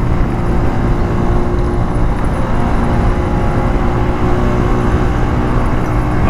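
A Honda CG125 SE motorcycle engine roars at high RPM in fifth gear at around 70 km/h on a Lahore road. The loud, dense, steady drone holds throughout with wind rush and no speech.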